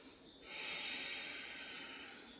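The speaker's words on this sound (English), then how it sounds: "Activate your air element by taking a deep breath, letting go on the exhale." A deep breath drawn in and let out during a yoga session, a soft airy rush that starts after a brief pause and swells, then fades slowly on the exhale, close and quiet.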